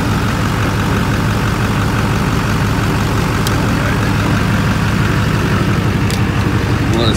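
A Duramax diesel pickup engine idling after a hard start, a steady low rumbling drone, close and loud, unchanging for the whole stretch.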